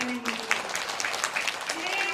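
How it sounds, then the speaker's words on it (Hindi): A festival audience at a Janmashtami celebration claps for a children's performance, steady applause mixed under a voice talking over it. "एक बार फिर हो जाए जोरदार तालियां"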